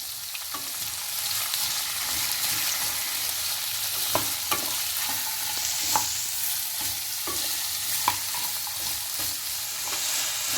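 Potato and carrot pieces sizzle steadily as they are stir-fried in a pan for a mixed vegetable sabzi, with a constant hiss of frying and occasional sharp clicks of a spatula against the pan.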